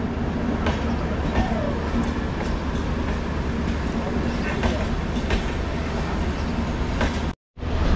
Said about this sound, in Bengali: দেখতে পাচ্ছ কলকাতা রাধিকাপুর এক্সপ্রেস পার করছে